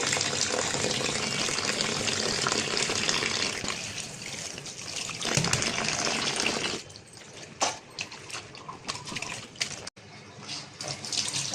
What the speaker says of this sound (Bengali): আমি এখন এই যে চিচিঙ্গাটা ধুয়ে নেব